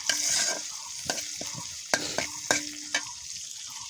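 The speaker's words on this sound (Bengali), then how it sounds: "তো আমি মরিচ পেঁয়াজগুলো একটু নাড়া দিয়ে নেব" Chillies and onions frying in a pan for khichuri, a soft sizzle under a run of five or six distinct spatula scrapes and taps against the pan, close and clear, with no talking.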